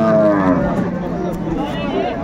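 A cow moos amid cows and calves at a village cattle market in Ambari haat, Dinajpur. The low, drawn-out call is heard over busy crowd noise.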